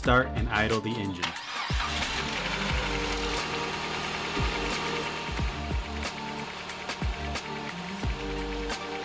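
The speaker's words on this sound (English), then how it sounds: "Start and idle the engine." A car engine with a head gasket tester fitted at the radiator is cranked and started, then settles into a steady idle with a rhythmic low pulse. A voice talks over it.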